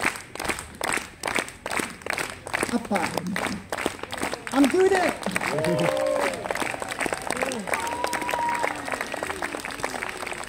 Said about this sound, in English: Everybody, join in with a nice, slow hand clap, please.